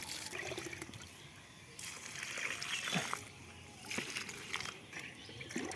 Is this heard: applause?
no